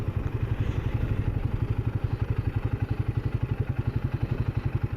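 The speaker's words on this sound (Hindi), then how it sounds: "इधर खड़ी कर देती हूँ बाइक।" A motorcycle idles close by at a mountain checkpoint in Nepal as it is parked, its engine thumping in a steady, even rhythm throughout with no talk over it.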